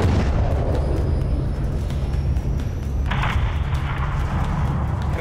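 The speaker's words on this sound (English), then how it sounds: "have your man drop a missile on that hangar" A missile strike levels an aircraft hangar in Call of Duty Modern Warfare 3, heard as a loud, sustained rumbling roar of explosion and debris that continues throughout, with a sharper burst of crackling noise partway through.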